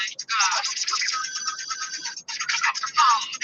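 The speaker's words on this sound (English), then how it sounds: "How you like my wife's ringtone?" A bright electronic phone ringtone plays a repeating melodic pattern, fairly loud and close, continuing for several seconds.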